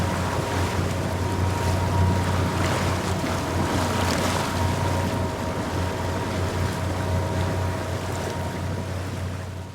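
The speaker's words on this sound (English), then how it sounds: "unfortunately the wind died and we had to turn on the engine again" A sailboat motors under engine on the Mediterranean Sea, its low steady drone running beneath a broad wash of wind, water and hull noise, continuous and even throughout.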